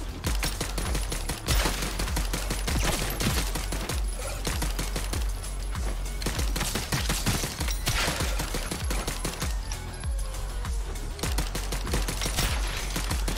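Rapid automatic gunfire rattles through a video game, SodaCrisis, in dense, loud bursts that continue with only brief breaks.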